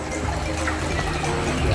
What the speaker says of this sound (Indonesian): Di atas ini adalah waterfall atau air terjun